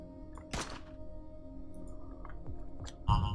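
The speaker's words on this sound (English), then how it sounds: "Gunshot." Gunshots in the stealth space game Heat Signature: a sharp percussive crack near the start and a heavier burst at the end, with faint electronic tones and softer clicks between.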